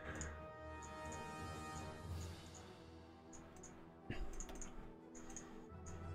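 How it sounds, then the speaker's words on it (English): Computer mouse and keyboard clicks during a Hearts of Iron IV strategy game, a run of light irregular taps and ticks over a steady electronic hum, close and fairly faint. "Have to do the clicking again."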